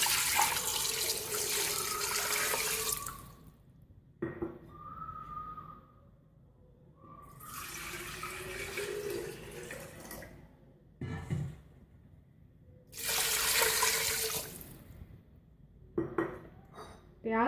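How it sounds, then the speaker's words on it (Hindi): Running water splashes in bursts from a tap into a cooking pot, stopping and starting several times, with quiet pauses between pours. "पानी हम शामिल करेंगे"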